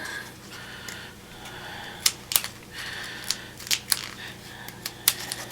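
Scissors snip a triangle into the end of a paper tube, giving a handful of sharp, close clicks and crunches at irregular intervals over a faint background.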